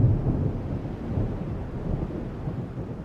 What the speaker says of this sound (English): Rolling thunder wakes me with flashes of light like so many strobes.